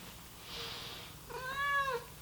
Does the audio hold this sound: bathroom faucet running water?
no